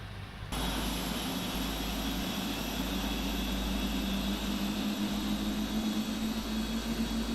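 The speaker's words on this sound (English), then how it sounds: "Engines 1 and 4 are lit and stable." PMDG Boeing 747 jet engines spool up in a flight simulator during a cold and dark start, a steady loud turbine whine and low rumble that rises suddenly and then holds constant, with no talking.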